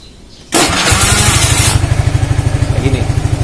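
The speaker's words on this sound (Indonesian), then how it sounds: "Nah, kalau udah begini bisa starter" A motorcycle fitted with a keyless alarm knob starts with a loud electric cranking burst, then its engine catches and settles into a steady, pulsing idle close by, with no talking.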